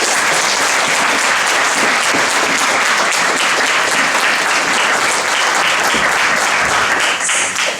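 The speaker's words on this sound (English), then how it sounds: "Give the panelists a round of applause." Audience applause for a panel at a forum on confronting racism after Ferguson: dense, loud, sustained clapping from a large crowd, steady for nearly eight seconds before easing slightly at the end.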